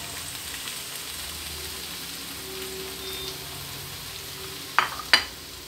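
Chopped onion hitting a pan of hot oil already holding sausage, producing a steady, soft sizzle throughout with two sharp clinks of a utensil near the end.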